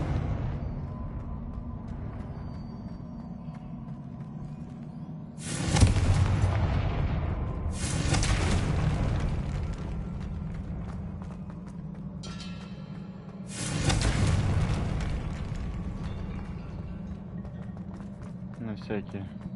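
Fiery spell explosions in the Hogwarts Legacy video game, three loud broadband bursts with rumbling tails spaced a few seconds apart over a steady low game ambience.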